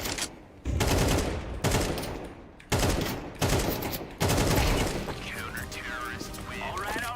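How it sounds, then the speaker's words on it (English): Counter-Strike match audio with a thrown flashbang and bursts of rapid gunfire in several loud volleys separated by brief pauses, followed by a ringing, warbling after-tone; a voice talks over part of it. "Throwing flashbang."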